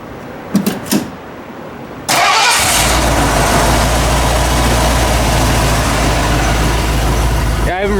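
A cold 1982 Ford F150 engine cranks and catches after a few short clicks, then settles into a loud, steady idle that runs unbroken to the end, with a faint voice briefly heard.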